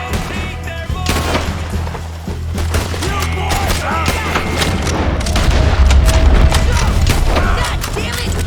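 Red Dead Redemption II gunfire in a woodland shootout, with sharp shots cracking repeatedly over a low rumble and splintering impacts. Voices shout in between the blasts.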